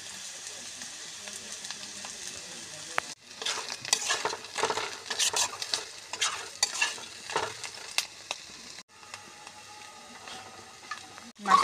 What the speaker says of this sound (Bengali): আমাদের মাশরুম ভাজা হয়ে গেছে